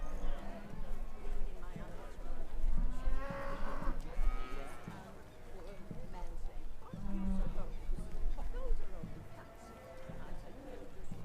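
Irish Moiled cattle lowing at an agricultural show ring, several deep moos rising and falling amid crowd and arena noise, with an announcer's voice over the public address.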